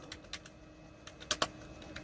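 Scattered clicks of typing on a computer keyboard, a few quick keystrokes in uneven bursts, close and fairly quiet.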